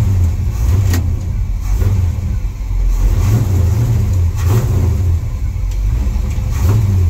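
Car with a Muncie 4-speed transmission pulling away, its engine revving in steady loud rises and falls, heard close with no talking.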